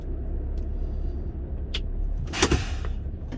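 A truck drives along a dusty road, a steady low engine rumble throughout with a brief hiss and clunk near the end.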